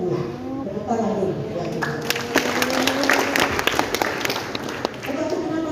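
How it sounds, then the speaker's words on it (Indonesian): Audience at a Christmas gathering in a Manokwari ballroom claps steadily and fairly loudly throughout, with voices and scattered sharp taps over the clapping. "Tepuk tangan dulu."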